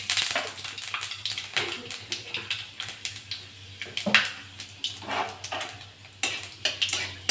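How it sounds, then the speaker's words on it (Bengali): Panch phoron spice seeds dropped into hot oil in a pan while cooking bitter gourd shukto, giving soft crackling, popping and scattered clinks of utensils against the pan. "তেলটা গরম হয়ে গেছে, আমি একটু পাঁচফোড়ন দিয়ে দেবো।"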